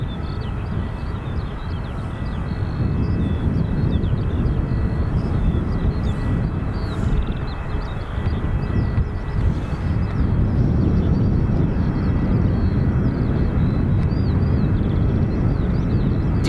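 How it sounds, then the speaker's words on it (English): Steady low jet engine rumble from an Air Canada airliner on pushback at Dublin Airport, continuous and moderately loud with wind buffeting across the microphone, no talk heard. "Air Canada for Toronto on pushback."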